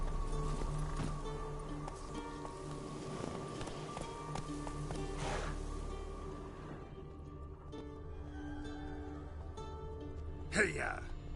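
Roach the horse in The Witcher 3 galloping through White Orchard, a steady drumming run of hoofbeats under game music and ambience, with a sharp louder hit near the end.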